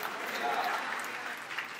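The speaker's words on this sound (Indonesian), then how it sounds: "tepuk tangan yang meriah untuk kemuliaan Raja kita" Church congregation applauding at a Christmas service, a continuous, moderately soft patter of many hands clapping, with faint voices mixed beneath.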